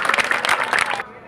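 An audience at a science awareness show breaks into a short, loud round of clapping that cuts off abruptly after about a second.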